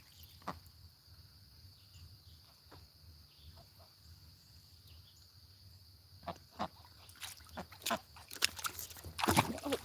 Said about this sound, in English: watching the ducks.